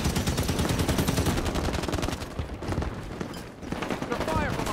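Rapid machine-gun fire from a hostile Warthog vehicle in Halo 5 Warzone, a dense, continuous stutter of shots that briefly thins and then resumes, with voices talking over the shooting.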